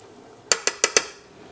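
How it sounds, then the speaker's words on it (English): Four quick, evenly spaced clinks of a utensil striking the side of a cooking pot while coconut brown rice is stirred, crisp and close, then quiet. "Halfway through the cooking process, what I like doing is giving it a quick stir just to make sure everything mixes up nicely in there"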